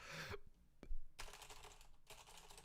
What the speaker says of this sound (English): so I don't know if you could hear that keyboard typing in the background